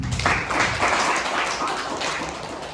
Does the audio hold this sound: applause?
yes